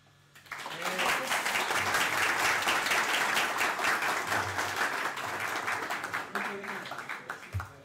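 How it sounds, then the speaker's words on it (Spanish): An audience at a JavaScript meetup talk breaks into sustained applause, many hands clapping together in a dense wash for several seconds before it thins into scattered claps near the end. "Ahora sí no hay más preguntas, vamos a aplaudir"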